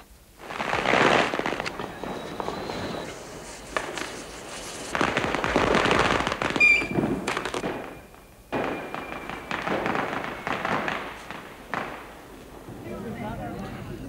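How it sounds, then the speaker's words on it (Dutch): New Year's night fireworks burst in rapid, crackling volleys like machine-gun fire, with thumps and pops coming in clustered bursts at moderate distance while a voice speaks over parts of it. "Er ging de afgelopen nacht weer voor vele miljoenen guldens vuurwerk de lucht in."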